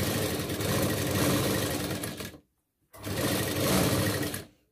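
Sewing machine stitching a round neckline, running in two steady, continuous bursts with a brief stop between them, loud and close with no talking.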